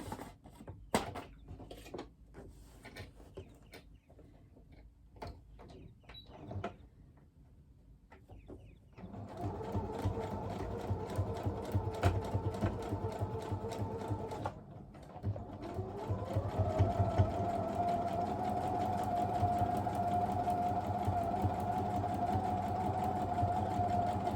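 A sewing machine stitches quilt fabric: scattered clicks and handling at first, then a steady mechanical whir that runs continuously, speeds up partway through and holds a higher pitched drone to the end, with no talking.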